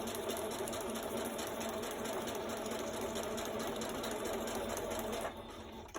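A sewing machine runs steadily through a junk journal pocket flip, stitching with a dense, continuous mechanical whir that drops off abruptly near the end as it stops.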